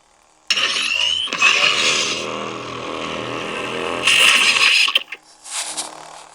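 Saberforge Bane lightsaber with a Proffie sound board powering up, a loud close electronic ignition surge followed by a sustained buzzing hum, a second swell, then a quick shutdown.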